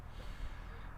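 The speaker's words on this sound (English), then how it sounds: "Sniffing propane." A person sniffs propane with a single sharp, close snort-like inhale of air, breathy and noisy, with no talking.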